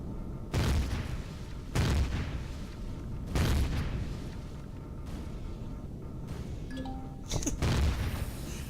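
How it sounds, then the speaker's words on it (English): Plasma turrets in the video game Empyrion Galactic Survival fire repeatedly, each shot landing as a heavy booming blast that tears into the ground, arriving in four or five loud bursts over a steady rumbling backdrop. "Those plasma turrets are blowing chunks out of the ground."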